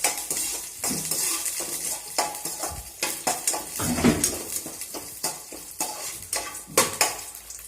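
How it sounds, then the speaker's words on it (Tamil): Garlic and curry leaves sauté in a pan for a Tamil marunthu kuzhambu, a steady close sizzle broken by repeated scraping and clinking stirs of a metal spoon against the pan, with no voices. "இந்த பூண்டும் கருவேப்பிலையும் நல்லா வதங்கட்டும்"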